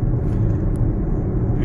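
A 2020 Audi SQ5 quattro SUV with a 3.0-litre V6 diesel mild-hybrid engine gives a steady, deep rumble close by, even and unbroken throughout, with no talking.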